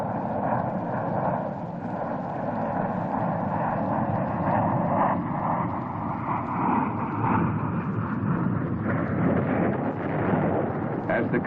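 Fighter aircraft over Vietnam in 1965 roar steadily overhead with a broad engine rush and wind-like noise throughout, sustained and fairly loud with no clear pauses.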